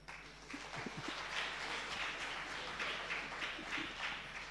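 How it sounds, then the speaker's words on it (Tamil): Audience at a Tamil literary gathering applauding, a soft, dense patter of clapping that stays faint and distant throughout, without speech. "ஒரு கைதட்டு."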